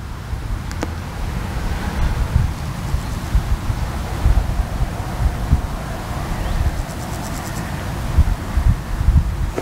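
Steady outdoor wind with low rumbling buffeting against the microphone, a continuous breezy wash, faint chirps occasionally rising above it.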